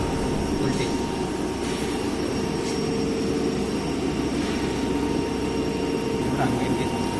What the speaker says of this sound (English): So now the motor is made to run at 1500 rpm.